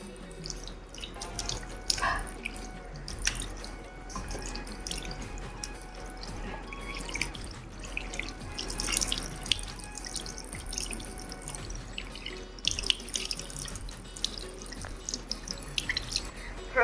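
Running tap water while someone washes their face in hot weather, with a steady faint water hiss and irregular close splashes and drips throughout. Occasional small handling sounds are mixed in.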